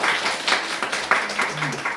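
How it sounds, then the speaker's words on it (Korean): Brief applause from the audience at a Buddhist study gathering after a guest lecture, an uneven scatter of claps in bursts, moderately close, with a faint voice near the end. "큰 박수를 부탁드립니다"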